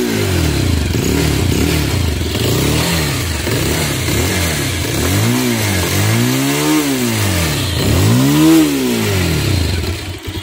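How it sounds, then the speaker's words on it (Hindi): A 2024 Bajaj Pulsar 220F motorcycle's exhaust note, loud and close, revving repeatedly in rising and falling swells over a steady idle for about ten seconds. "फुल वीडियो स्टार्ट करने पूर्व आसतु प्रथम 220F रो एग्जॉस्ट नोट शुणीदेवा"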